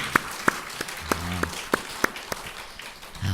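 Scattered claps from a small audience at a Buddhist dharma talk, sparse and uneven with a few louder individual hand claps standing out over a quiet room.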